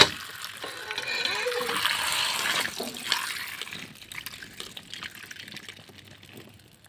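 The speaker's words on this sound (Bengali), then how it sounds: "জলপাইগুলা পরিষ্কার করে ধুয়ে আচার বানাবো।" Olives swished and rinsed in water for pickling, close splashing and trickling that fades over the second half, with voices faintly present.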